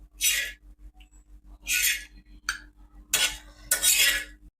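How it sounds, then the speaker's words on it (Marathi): A spoon scrapes and clinks against a bowl while scooping chutney, in several short bursts with pauses between them, close and fairly loud. "आता चटणी आपण एका वाटीमध्ये काढून घेऊ"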